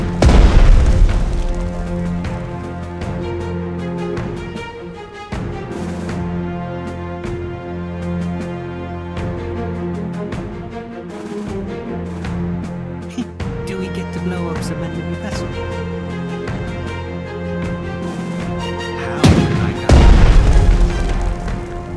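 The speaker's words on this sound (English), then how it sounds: "Finally, we get to use our guns. Oh yes, we'll show them our big gun." Heavy naval guns boom in Strategic Mind: The Pacific, a string of deep blasts over steady game music, with a loud burst near the end.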